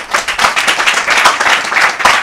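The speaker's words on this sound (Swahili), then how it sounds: "Hebu mpigeni makofi." Enthusiastic clapping from a crowd at a press gathering ahead of a general election, a dense, steady burst of applause that holds at full strength throughout.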